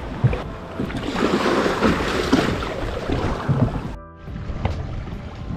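An electric thruster motor pushes a kayak across the water, humming under splashing and wind-blown lapping, close and fairly loud, with a short dip before the rushing resumes.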